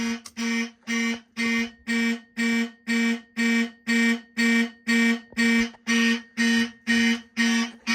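A Simplex fire alarm sounds during a system test, giving steady, evenly spaced loud electronic horn blasts, about two each second, with no break over the whole span.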